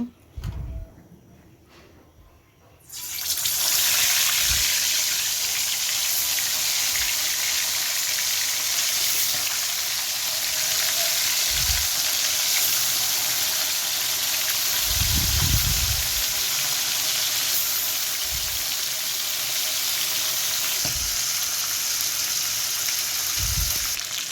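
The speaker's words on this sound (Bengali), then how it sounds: "চিকেনগুলো একে একে বেজে নেব" A loud, steady sizzle of chicken pieces frying in hot oil starts abruptly after a quiet moment and continues with occasional low bumps.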